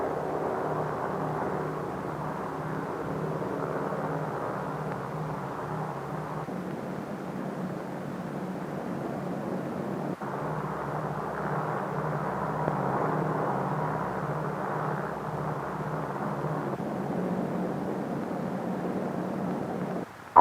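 Aircraft drone as the bomber Dave's Dream flies toward Bikini with escort photographic, weather and instrument planes, a steady low engine rumble that continues throughout at moderate level, with a brief break near the middle.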